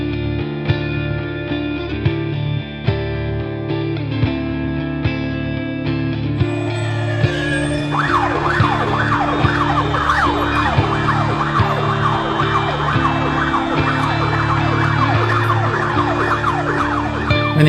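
A loud ambulance siren wails continuously, its pitch sweeping up and down in rapid repeating cycles that grow busier partway through.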